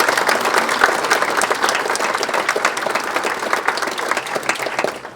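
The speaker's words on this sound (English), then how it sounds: "Please, a round of applause for our new members." Audience members at a chamber of commerce annual dinner applaud new members, a dense, sustained round of clapping from a sizable crowd, loud and even for several seconds.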